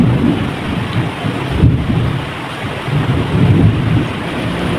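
Deep rolling thunder rumbles in long waves over a steady wash of heavy rain, loud and close, with no voices.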